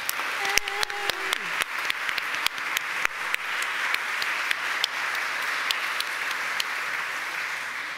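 A room of people claps steadily to welcome a panel of speakers at a literary festival. Dense, sustained applause carries a few sharper nearby claps, and a brief voice is heard early on.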